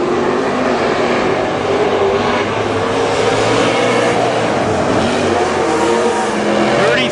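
Wissota Super Stock race cars roar around the Granite City Speedway track in a continuous loud engine drone, with tire noise as the pack passes and an announcer faintly audible beneath.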